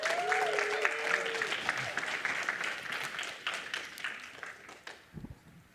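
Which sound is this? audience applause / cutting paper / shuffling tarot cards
audience applause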